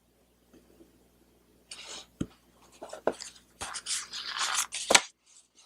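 Scissors cutting through a sticker, with a few sharp snips followed by a longer run of rustling, scraping cuts, close and fairly loud with no talking.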